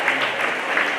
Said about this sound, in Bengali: তাকে আমরা আরো একবার অভিবাদন জানাবো জোরে হাততালি দিয়ে